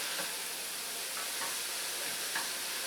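Onion sizzling hard in a pot on a hot stove, a steady loud hiss of frying with a few faint stirring clicks and no voices.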